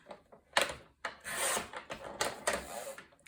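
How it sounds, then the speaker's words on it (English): Scissors or a paper trimmer cutting strips of paper for a handmade mini album, heard as several separate rasping, scraping strokes with short pauses between them, close and fairly quiet. "I'm going to cut some strips on this, and I'm going to cut them to 2 inches."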